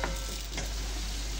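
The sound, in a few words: potatoes frying in oil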